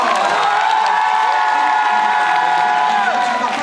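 An audience at a League of Legends esports event at Mang'Azur cheers and applauds, a dense continuous wash of clapping, shouts and whoops filling the room at steady volume.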